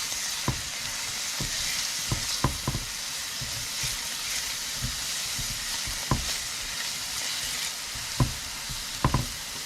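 Chopped onion and garlic frying in a pan for salsa guisada, a steady soft sizzle throughout with a few light taps and scrapes of stirring, close and fairly quiet, no talk.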